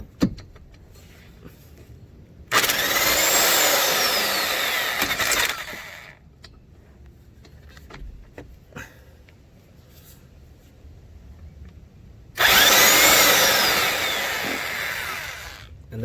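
A pneumatic impact wrench hammers on a rear strut bolt of a 2001 Lexus ES300 in two loud, rattling bursts of about three seconds each, separated by a stretch of quiet shop noise.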